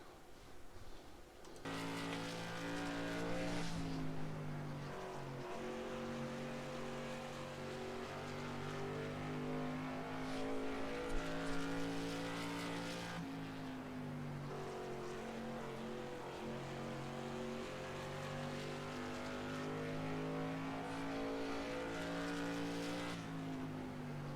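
Race car engine in a racing video game during a fast lap, a loud continuous high-revving whine that climbs through the gears with brief dips at shifts, steady throughout with no talking.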